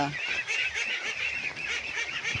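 Pet ducks eat snails, giving a steady run of nasal honking calls mixed with busy dabbling and feeding noise, close by and with no talk.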